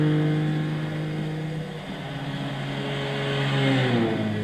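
A Mitsubishi Eclipse GT 3.8 V6 24V revs hard in Gran Turismo 6, its steady engine tone dipping briefly as sixth gear is engaged, then climbing again, loud and close with no voices.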